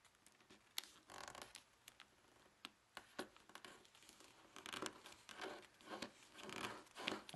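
Paper creasing and rustling while folding a thick, many-layered origami three-point ninja star, with repeated crinkles, rubs and sharp flattening presses close to the microphone and no talking.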